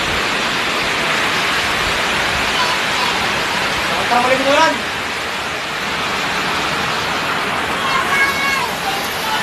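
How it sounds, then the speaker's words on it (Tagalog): Heavy rain pours down steadily in the Philippines as a dense, continuous hiss. Brief voices and a few short tonal sounds come through faintly beneath the downpour. "Raining in the Philippines."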